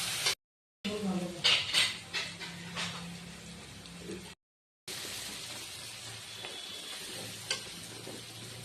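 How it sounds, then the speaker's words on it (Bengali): Onions sizzle and crackle in a hot pan as they fry until browned, with stirring scrapes and utensil clinks near the start, the frying hiss continuing steadily throughout. "এবার পেঁয়াজটাকে লাল করে ভেজে নেব।"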